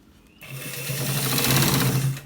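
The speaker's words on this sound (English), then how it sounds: "We are stitching it to the end part, the very end." A sewing machine runs steadily for about two seconds, stitching a collared shirt near its very end, a dense rapid needle rattle starting abruptly and staying close and loud.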